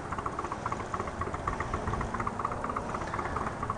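A 2016 Indian Roadmaster motorcycle with a stage one upgrade and six shooter exhaust tips idles in a steady, fairly faint pulsing rumble.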